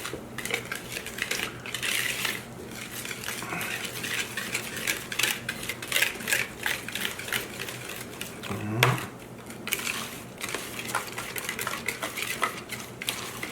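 Cornbread muffin batter mixed in a bowl with a utensil, quick clinking and scraping strokes in an uneven rhythm, close and fairly loud, with a person talking at times in the background.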